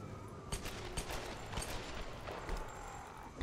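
Rapid bursts of gunfire from the video game Tomb Raider, a dense run of overlapping shots and volleys that stays steady at moderate loudness across the whole stretch.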